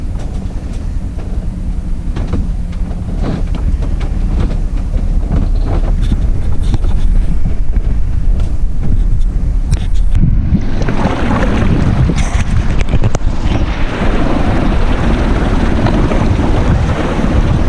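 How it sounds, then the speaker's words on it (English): A powerful, continuous roar of crashing ocean waves and rushing water in the Great Sandy Strait, loud and close, with heavy wind buffeting the microphone throughout. "those waves are so strong"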